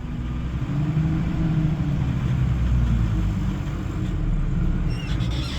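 A little straight-six truck engine labors steadily in low gear while moving a load of around 15,000 pounds, giving a continuous deep, loud rumble that holds nearly constant throughout.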